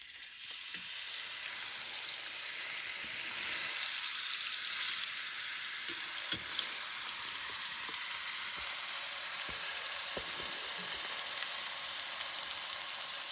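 A pork chop sizzles as it fries in a hot pan, a steady bright hiss with occasional small pops and a brief clatter midway, close and unbroken throughout.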